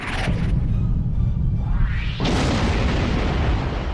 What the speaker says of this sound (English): Oh man, I like that explosion, but jeez.